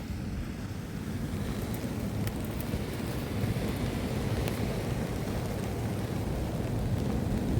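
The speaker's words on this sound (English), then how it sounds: "It's wet, it's not meant to be raining." Rain falls at night on a rocky shore at Holyhead, Anglesey, in North Wales. It makes a steady, dense hiss mixed with surf, loud and unbroken, with a few sharper patters.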